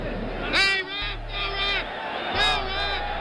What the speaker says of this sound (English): Screams from the corner, and the crowd reacts